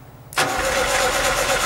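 A VAZ car engine fitted in a boat cranks and catches abruptly after a moment of quiet, then settles into a loud, steady idle close by.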